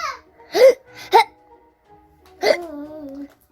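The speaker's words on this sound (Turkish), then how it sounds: "Anneciğim bak hala hıçkırıyor" A small child hiccups three times, sharp, close and loud, in a quiet room. Short babbling or vocal bits follow the last hiccup.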